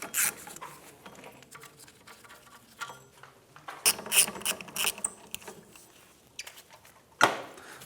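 Ratchet clicking as hub bolts are loosened on a 2011-2016 Hyundai Elantra rear wheel hub, with quick bursts of mechanical ticking and a few sharper metallic clacks, close by and no talking.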